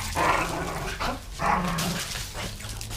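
A dog barks in a few bursts, roughly three loud yaps spread over a few seconds, close by during a relaxed outdoor fishing outing with no talk over it.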